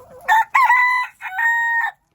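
A single loud rooster crow rings out nearby, rising and then holding its long final note, with no talk.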